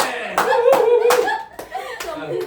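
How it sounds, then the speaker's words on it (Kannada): A family claps at home after a correct answer in a quiz game, several bursts of sharp, close handclaps in uneven rhythm, mixed with laughter and voices talking over them. "ಒಳ್ಳೆ ಚಪ್ಪಾಳೆ"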